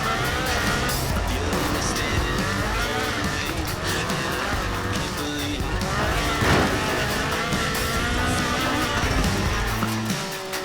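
Ford RS 1800 rally car with a fuel-injected 1790cc Cosworth BDE engine in Forza Horizon 4, its engine roaring continuously and loud with rising and falling revs and some tire noise, heard close throughout.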